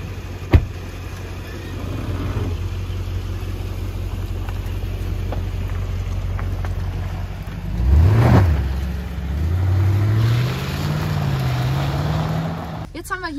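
Mercedes GLE63s AMG Coupé 2021 driving off-road at a traffic safety centre: a steady low engine drone, then a rising rev swell and further throttle pulls near the end, with no talk over it.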